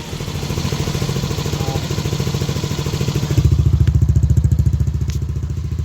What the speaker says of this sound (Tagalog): Yan ang tunog niya mga boss. Tunog ng makina niya ngayon.